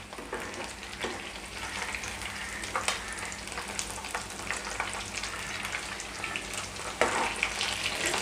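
Kerala-style fried chicken with curry leaves crackles and bubbles in hot oil, a moderate steady fry with occasional stirring scrapes and a louder burst near the end, no talking.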